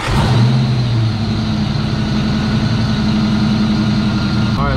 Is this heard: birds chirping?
no